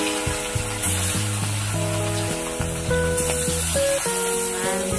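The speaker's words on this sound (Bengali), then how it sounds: "তারপর বাড়িতে এসে দেখি মাছ ভাজছে।" Fish fries in very hot oil in a wok at home, a continuous hiss of sizzling that sits beneath prominent background music with stepping melodic notes.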